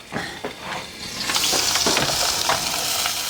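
A steak sizzles and fries in a hot pan, a loud, close hiss building and holding steady with a few crackles and spits, no voices.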